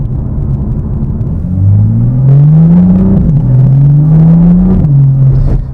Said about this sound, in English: it is quite a talkative exhaust, shall we say, particularly on those downshifts